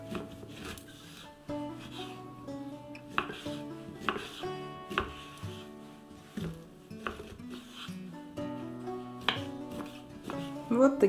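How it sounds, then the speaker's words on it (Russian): Coarse knife chopping of sausage on a cutting board, irregular close thuds and taps spaced by short pauses, with faint clinks of kitchen utensils and no talking. "Некрупно нарезаем колбасу."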